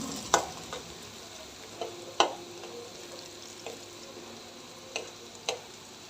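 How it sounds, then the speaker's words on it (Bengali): Tomato and onion fry in oil in a pan with a steady low sizzle, broken by a few sharp clinks and scrapes from stirring. No one speaks. "টমেটো পেঁয়াজ ভাজাটা হয়ে গেছে প্রায়"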